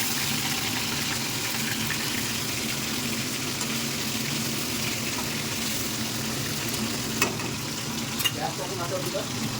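Eggplant slices fry in a pan of hot oil with a constant, even sizzle that stays moderately loud throughout, with faint kitchen clatter near the end.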